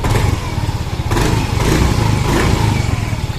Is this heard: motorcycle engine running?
yes